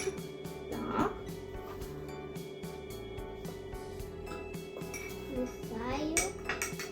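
A spoon clinks rhythmically against a glass, tapping steadily in quick repeated strokes over a constant electrical hum, with a voice briefly heard.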